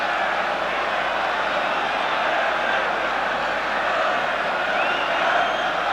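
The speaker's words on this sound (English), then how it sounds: "the Spurs are being shouted on by this huge crowd now" A huge football crowd roars steadily for Spurs at a 1984 UEFA Cup Final against Anderlecht, a dense, continuous wash of distant cheering and shouting with no break.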